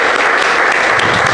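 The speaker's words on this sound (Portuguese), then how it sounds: "uma linda salva de palmas." A church congregation at a Christian worship service gives a dense, loud round of applause, with many hands clapping steadily and continuously and no voices over it.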